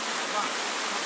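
Steady dense hiss of heavy rain pouring down over a park tennis court, constant and enveloping, with no breaks.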